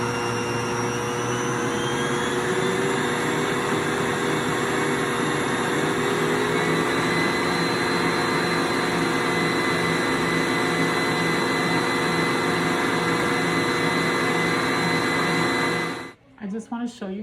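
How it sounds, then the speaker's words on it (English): An electric stand mixer runs continuously and loudly as sugar is slowly added to whipping egg whites for an angel food cake, a steady whirring drone that cuts off abruptly near the end. "That's the best way to do it while the mixer is running."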